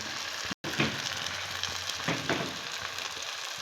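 Salt, red chilli and turmeric roasting in oil in a pan for paneer bhurji, a close continuous sizzle with a few brief stirring scrapes and a momentary dropout early on.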